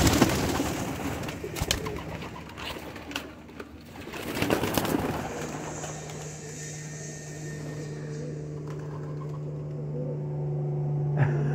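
A quintero pigeon at a pigeon show, with soft low cooing that becomes a sustained hum later on, amid rustling, handling noises and a faint distant aircraft drone.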